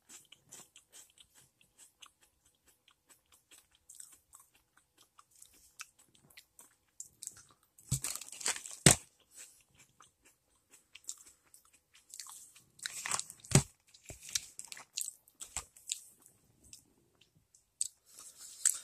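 Quiet, crisp bites and crunchy chewing of a crispy chocolate wafer roll, with bursts of sharp crackling in a close, otherwise silent setting.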